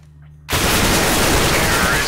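Loud, dense burst of gunfire in Counter-Strike: Global Offensive kicks in abruptly after a quiet moment and continues as sustained rapid shooting.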